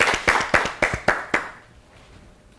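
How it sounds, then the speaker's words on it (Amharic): Audience clapping for a contestant on an Ethiopian children's quiz show, about five or six sharp bursts of applause in quick rhythm that stop after about a second and a half, leaving near silence. "አጨብጭቡላት በደንብ አድርጋችሁ አጨብጭቡላት"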